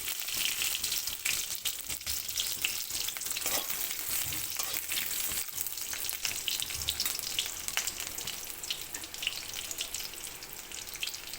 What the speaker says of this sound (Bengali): দিয়ে দিচ্ছি কুচিয়ে নেওয়া রসুন